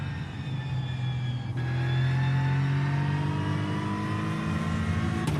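A GT3 race car engine revs hard in the iRacing sim, a loud rising whine climbing steadily through the gears with a brief dip at a shift, no voices over it.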